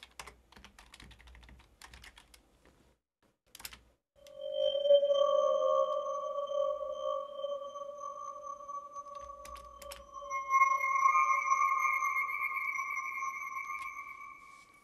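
An FM synthesizer produces an ambient tone: a few faint clicks and taps come first, then long, smooth sustained tones swell in, with a higher layer joining partway and holding steadily to the end.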